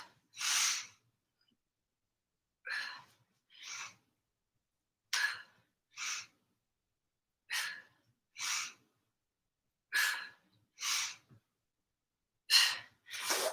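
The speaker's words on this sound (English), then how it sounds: "Hope you heard the breathing." Heavy, forceful breaths during an ab workout in a steady rhythm, each sharp exhale separated by a pause, close and clear with no other sound.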